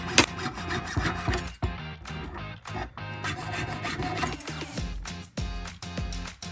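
Steady rasping of a saw cutting silver to length for a cuff bracelet, repeated back-and-forth strokes with brief pauses, close and fairly loud.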